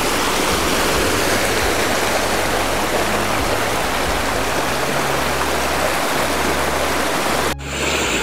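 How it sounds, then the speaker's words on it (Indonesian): Rushing water of a clear mountain river below the Kedung Kayang waterfall on the slopes of Mount Merbabu fills the scene with a loud, steady broadband roar, cutting off abruptly near the end. "akhirnya saya sampai di dasar sungai yang merupakan sumber dari air terjun Kedung Kayang"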